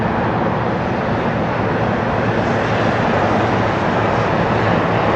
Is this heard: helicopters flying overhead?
yes